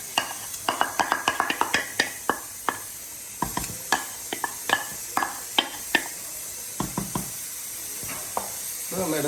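Cashew paste is stirred into a simmering duck curry, a spoon scraping and tapping the pot in quick irregular strokes over a low sizzle, with no talk.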